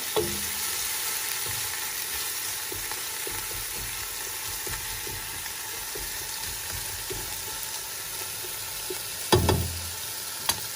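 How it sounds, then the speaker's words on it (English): Spinach sauce stew with habanero pepper being stirred in a frying pot, a steady soft sizzle running throughout with faint spoon scrapes and a brief louder clatter near the end. "And I'm going to stir."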